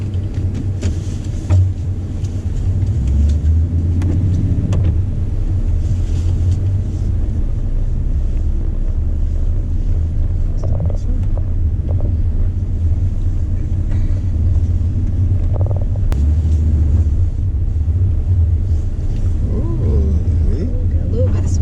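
A Jeep Wrangler drives through snow in two-wheel drive during a VA/NC snowstorm, its engine a low, steady rumble with occasional revving, while people talk over it.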